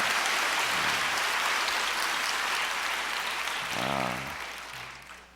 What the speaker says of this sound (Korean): 우리 하나님께 큰 박수 올려드리십시다